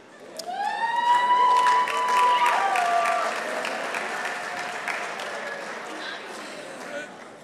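Audience applause and cheering at a university athletics awards ceremony, swelling quickly and holding strong with whoops and whistles before easing off, with scattered voices.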